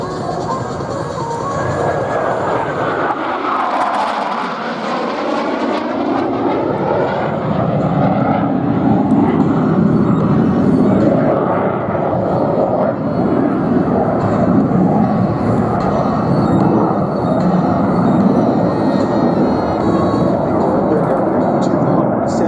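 Military aircraft fly over at the Marine Corps Air Station Beaufort airshow, a loud jet roar building and sweeping past with a falling pitch, then a sustained rumble lingering under an announcer's voice.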